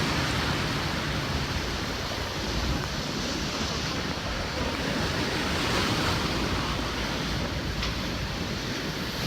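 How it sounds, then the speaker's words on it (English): Hurricane Dorian storm surge crashing onto King and Prince Beach on St. Simons Island: a continuous roar of heavy surf with strong wind buffeting the microphone, loud and unbroken throughout. "Look at all those waves."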